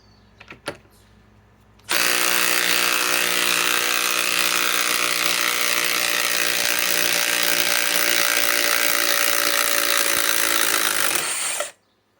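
A DeWalt DCF860 impact driver drives giant lag screws: a sharp click, then a loud, continuous rapid hammering whir held for about ten seconds before it stops abruptly, close and alone.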